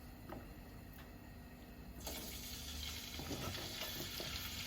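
Diced cubes of meat dropped into a hot pan, a faint background hum giving way to a sudden broad sizzle that continues steadily with small crackles.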